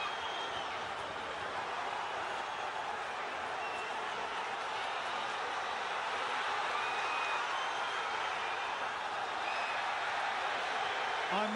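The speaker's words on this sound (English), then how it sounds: "listen to the reaction of the crowd" A boxing arena crowd roars and reacts to punches during a Cleverly–Bellew fight, a dense, steady wall of cheering and applause that holds loud for the whole stretch.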